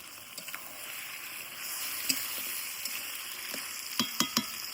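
Chicken pieces sizzle steadily in hot oil with a ginger-garlic, cumin-coriander and dried red chilli paste, with a few sharp scrapes of a spatula stirring near the end.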